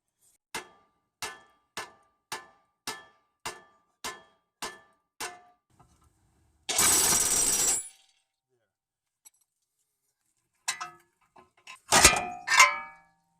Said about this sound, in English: I'll use hammer blows to vibrate the ball joint off the lower control arm